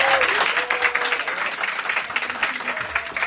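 An audience claps throughout at a book presentation, steady applause from a room of people with some voices mixed in beneath it.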